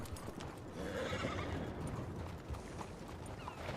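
A horse in a video game whinnies while hooves clip-clop steadily beneath it, the neigh prominent and the hoofbeats continuing throughout at moderate volume.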